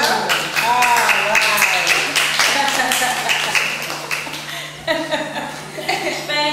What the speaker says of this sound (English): Clap for my Amuna.